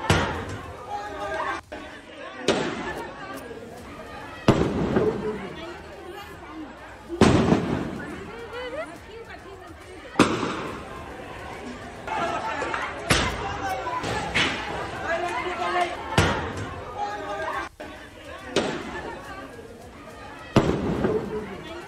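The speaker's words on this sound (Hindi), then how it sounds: "पंद्रह बम मारे गए हैं" Crude bombs exploding at a BJP leader's house in Bengal, a series of loud sharp blasts every few seconds amid crowd chatter and shouting, recorded from nearby with a noisy, clipped quality.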